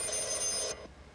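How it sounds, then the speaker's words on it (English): A telephone bell ringing indoors in a workshop during dresser construction, a steady electric trill that stops abruptly after under a second, moderately faint. "there goes the phone"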